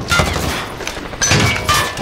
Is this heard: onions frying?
no